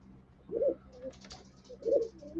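Two distinct rounds of pigeon coos from pet birds, close and fairly clear, separated by a pause filled with soft rustling and light clicks.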